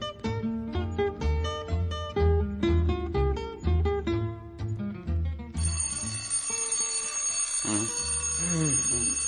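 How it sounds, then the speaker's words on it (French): An alarm clock goes off with a rapid metallic bell ring over music, loud and continuous, with faint voices around it. "Pourquoi t'as fait sonner ton réveil?"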